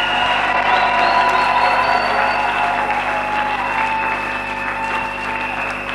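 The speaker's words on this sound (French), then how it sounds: "l'acclamons très fort" A church congregation bursts into loud, sustained applause with some cheering, a dense wash of clapping that holds steady for the whole stretch and eases slightly toward the end.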